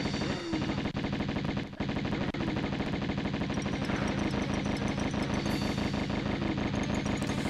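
Rapid, continuous Uzi fire in the video game Tomb Raider, loud and unbroken rattling bursts with steady rhythm throughout, nearly no pauses.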